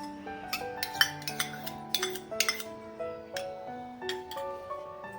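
A cup of yogurt is whisked in a bowl for dahi pithla, giving a run of quick, close metallic clinks and taps of utensil against the bowl, irregular and fairly light, with no talking.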